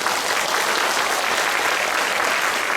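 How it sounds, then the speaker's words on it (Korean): An audience at a Catholic Holy Spirit gathering in Incheon bursts into applause, a dense, even wash of clapping that holds steady throughout. "박수 한번 쳐주세요"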